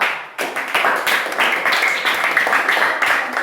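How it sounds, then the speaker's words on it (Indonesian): A class in an Indonesian school lesson gives a round of clapping for group 2, starting abruptly and holding as a busy, close patter of many hands. "Kita berikan tepuk tangan untuk kelompok 2."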